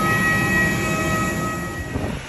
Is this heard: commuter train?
yes